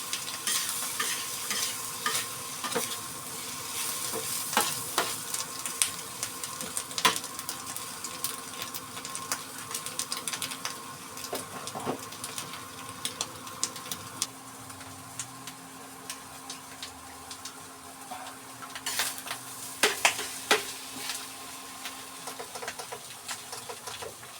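Ampalaya and egg stirred in a hot pan until the egg cooks, with steady sizzling frying under repeated scraping strokes of a utensil, fairly close and continuous with no talking.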